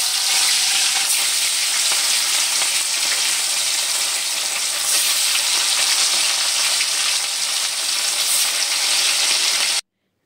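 Rohu fish pieces fry in hot oil in a kadai with a loud, steady sizzle and crackle for about ten seconds, then stop abruptly.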